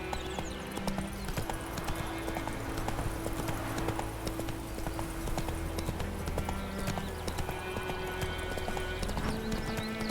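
In The Witcher 3, Geralt's horse Roach gallops in a steady rapid hoofbeat rhythm with a brief neigh, set against game music and ambience.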